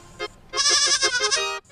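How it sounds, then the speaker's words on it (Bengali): A goat bleats in a quick wavering cry, one short call followed by a longer, loud, tremulous bleat up close. "একটা ছাগলকে দুটো দেখতে পেয়েছি।"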